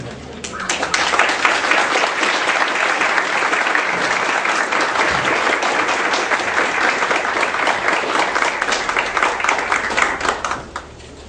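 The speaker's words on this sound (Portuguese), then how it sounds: "E agora eu vou aplaudir vocês." Sustained audience applause fills a university lecture hall at the Federal University of Viçosa's Rio Paranaíba campus, starting abruptly, holding dense and loud for about ten seconds, then tapering off at the end.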